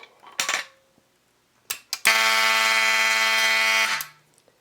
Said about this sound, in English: it's just simply going to go back into alarm because the switch is still closed